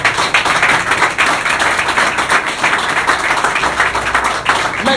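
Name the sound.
congregation clapping and applauding in church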